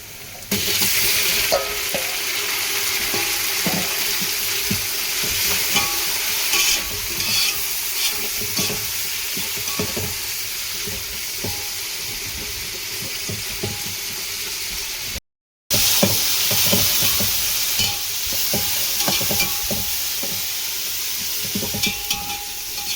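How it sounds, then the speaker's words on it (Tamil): Tomatoes frying with onions in a pan for a rock fish curry, a loud continuous sizzle with stirring scrapes throughout, briefly cut off near the end before resuming; no talking. "அடுத்தது தக்காளியை கொட்டுவோம்"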